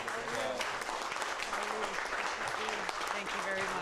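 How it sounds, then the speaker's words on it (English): An indoor town-hall crowd applauds Tulsi Gabbard with steady, dense clapping throughout, while voices talk beneath it. "can we give her a round of applause?"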